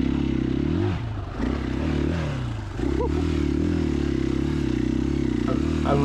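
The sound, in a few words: 2021 KTM EXC-F 500 dirt bike riding in the rain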